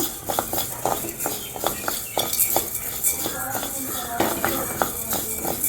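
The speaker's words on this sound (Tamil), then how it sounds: "இது நல்லா சுவக்க வறுக்கணும்" Black urad dal roasts in a pan for Jaffna-style ulutham kali, stirred with a spatula in repeated scraping, clinking strokes. The grainy rattle is close and fairly loud and continues steadily for several seconds.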